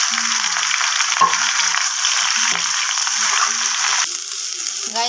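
Cauliflower florets frying lightly in hot oil, a steady close sizzle that holds throughout with a few clinks of a utensil stirring the pan, no voices.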